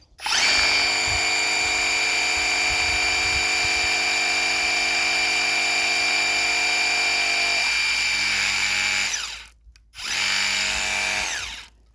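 A Worx 633 cordless pressure washer, rated at 56 bar, runs with a steady, loud electric motor whine for about nine seconds. It cuts out briefly, then starts again near the end.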